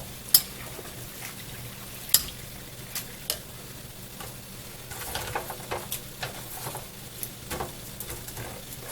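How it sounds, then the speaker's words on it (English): Spinach fries and starts to burn in a pan, giving a soft, steady sizzle with scattered ticks and spatula taps, close but quiet, with no talking. "Oh, we're burning some spinach."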